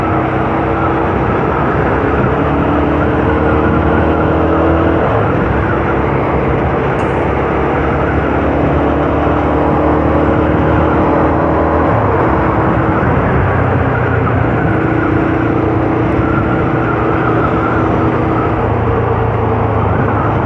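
A Daytona Zontes R250 motorcycle engine roars steadily throughout a test ride, with heavy continuous drone and road and wind rush at close range and no breaks.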